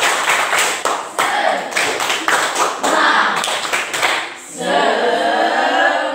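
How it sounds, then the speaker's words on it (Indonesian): A classroom group claps a quick rhythmic Indonesian spirit clap, bursts of sharp claps in a chant-like sequence, followed by a moment of cheering or voices at the end. "Oke, kita tepuk semangat dulu."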